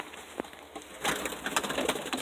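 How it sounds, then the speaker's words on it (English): Homing pigeons cooing inside a cage, with a soft low coo early on, then a steadier stretch of close, scratchy rustling and fluttering in the cage. "So we have 3 birds in there right now."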